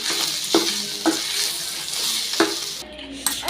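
Cooked rice is mixed through tempered podi in a pan, the spoon scraping and tapping the metal every second or so over a faint sizzle, close and without speech.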